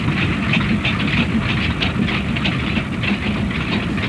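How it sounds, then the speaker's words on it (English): A 62-year-old steam engine hauls a train of older wooden coal wagons across wetlands. Its steady, loud mechanical chugging rumble holds even throughout, with no voices. "as the 62-year-old engine and its train of even older wooden coal wagons made its way across the Hexham wetlands"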